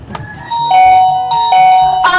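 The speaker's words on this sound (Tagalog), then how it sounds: "Pipindutin ko yung doorbell nila para manilig nila ako." An electronic doorbell chimes several ringing tones in a row, clear and close, with a short gap between the chime phrases.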